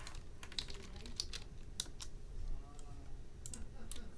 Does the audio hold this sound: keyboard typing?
yes